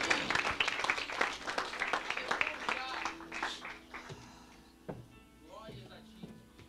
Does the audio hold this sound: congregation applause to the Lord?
yes